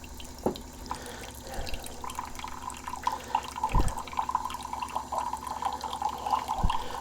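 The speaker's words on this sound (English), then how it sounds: "This is the reverse osmosis water." Reverse osmosis filtered water trickling and dripping into a container, a soft continuous trickle with a few distinct drips, fairly quiet and close.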